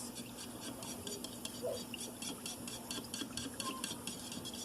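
Rabbit jerky marinade being stirred in a bowl: a steady, rhythmic scraping and rubbing of a utensil against the bowl, close and fairly quiet, repeating several times a second.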